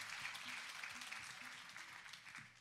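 Applause from a theater audience at a mariachi concert, a dense wash of clapping that holds steady and tapers slightly over a few seconds.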